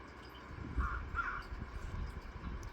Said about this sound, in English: Birds, squirrels, crows.